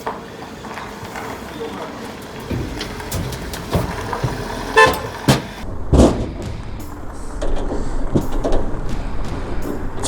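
At a forage harvester event, the processor is pulled out of the machine and the grass chute retracts, giving several metallic clunks and thuds over a running engine. Voices speak in the background.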